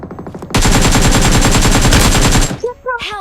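Loud automatic rifle fire in the mobile battle royale PUBG Mobile, a rapid close burst of about two seconds of evenly spaced shots, with a voice briefly heard before and after.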